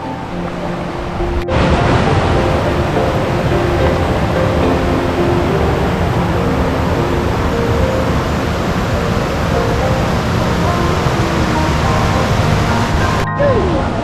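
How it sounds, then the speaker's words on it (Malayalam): A steady, loud rush of stream water flows continuously near Awosting waterfall, broadband and unbroken across the whole stretch, with no voices above it. "നല്ല ഭംഗിയുള്ള ഒരു തോടല്ലേ ഈ വെള്ളം"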